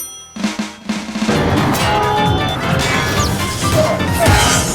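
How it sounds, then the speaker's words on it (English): A heavy smashing impact as Captain America's shield strikes an enemy in a video game, followed by dense, crashing clatter and rumble, loud and close, continuing for several seconds without a pause. "The shield has a really nice, impactful wallop whenever it collides with the skull of an unlucky foe."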